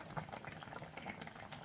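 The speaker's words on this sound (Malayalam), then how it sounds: "തിളയൊക്കെ കയറി നല്ല കിടിലനായിട്ടുണ്ട് കേട്ടോ" A pot of fish curry bubbles at a steady simmer close up, with soft irregular pops and gurgles. The sound is quiet and there is no speech.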